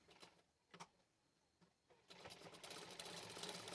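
A sewing machine stitches a lace border onto a blouse, first in a few short bursts and then running continuously, faint and near with no talk.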